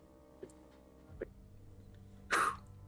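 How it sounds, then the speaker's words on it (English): A single person clearing their throat once, a short rough burst close to the mic following a couple of faint small noises, with no talk over it. "I clear my throat."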